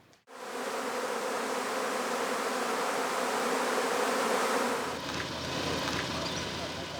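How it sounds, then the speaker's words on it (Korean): Honeybees buzz in a dense, steady swarm around hives on a Korean migratory beekeeping site at evening, a loud continuous drone close by that thins slightly toward the end. "저녁 때가 돼야 나갔던 벌들이 다 들어와요."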